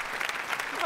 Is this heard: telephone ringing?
no